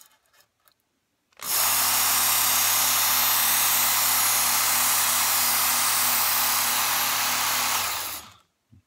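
A Work Sharp electric knife sharpener whirs up and runs at a steady, loud, high-pitched grind for about seven seconds, then spins down, with quiet moments before and after.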